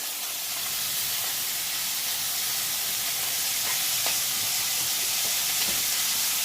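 Ground beef frying in a pan for homemade pasta sauce gives a steady, loud, close sizzle and hiss, with faint scrapes and clicks breaking through now and then.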